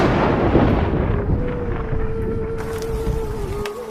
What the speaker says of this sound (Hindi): तभी अचानक से तेज बारिश और तूफान शुरू हो जाते हैं।